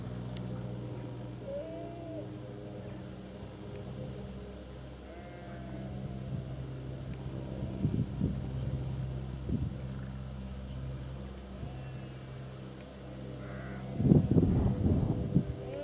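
Sheep bleating in downland countryside on a walk from Amberley to Arundel: a few faint, distant bleats over soft outdoor ambience, then a louder, closer bleat near the end.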